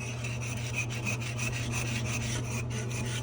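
A cleaning tool scrubs a toilet in steady, rhythmic rubbing strokes, close and continuous over a low hum, with no speech.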